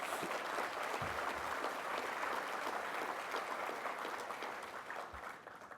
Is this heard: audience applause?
yes